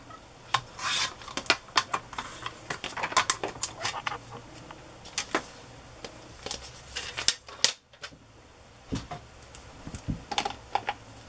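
Scissors cutting the bottom off a paper file folder scrap: a long run of close, crisp snipping and rustling paper sounds in irregular bursts, with a short quiet gap near the end.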